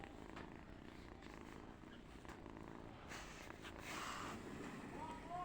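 A cat purrs on a person's lap in a village house, a soft continuous low rumble held close up for several seconds, with faint background noise and some brief rustling.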